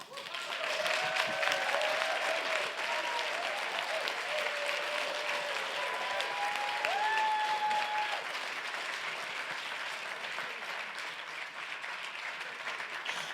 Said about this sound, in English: I told them they have to stand for their applause